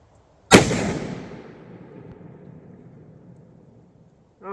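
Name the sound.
rifle shot from a Tikka T3x Lite in 270 WSM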